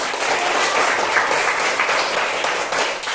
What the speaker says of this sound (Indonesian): Tepuk tangan untuk ibu dan saya semua.